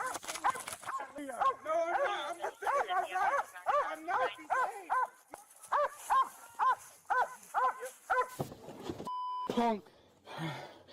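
Repeated barks and yips from a dog in a game come in quick clusters over several seconds, close and prominent, followed by a short electronic beep and then a softer noise near the end.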